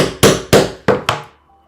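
A hammer strikes a leather awl four times, punching holes through a template for Japanese stitching; sharp, close, evenly spaced blows with a short ringing decay.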